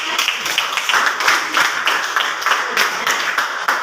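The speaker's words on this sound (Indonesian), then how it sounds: "Oke, tepuk tangan lagi ya." Classroom students applauding together: steady, dense hand clapping at a moderate level throughout, with faint voices mixed in.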